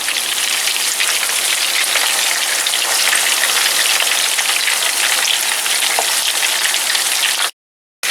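Steady, dense sizzling of meatballs frying in hot oil in a pan over medium heat crackles continuously up close, then cuts off abruptly near the end.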